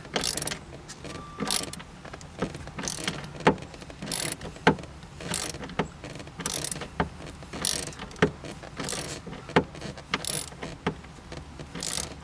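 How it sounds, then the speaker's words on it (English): Repeated ratcheting clicks from a tap re-cutting bolt threads in the convertible top latch of a 1990-2005 Mazda MX-5 Miata, in uneven bursts of sharp metallic ticks, close and moderately quiet, with no talking. "we can sort of re-tap those threads"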